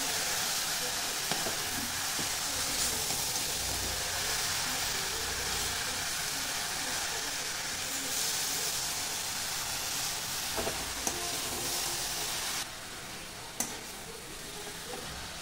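Jaggery modak stuffing cooks in a pan while being stirred, a continuous close sizzle and bubbling hiss with occasional light scrapes and taps of the spoon, with no voices.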